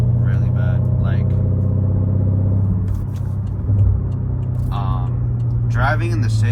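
A 2013 BMW 550i with a six-speed manual, H-pipe and catless downpipes drives through city streets, its deep exhaust rumbling steadily while brief voices drift over it.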